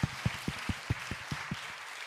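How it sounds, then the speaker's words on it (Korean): Slow, evenly spaced claps ring out in a church during a Wednesday evening worship service, about eight distinct hand claps spread across two seconds, fairly close with no talking. "박수 한번 합시다."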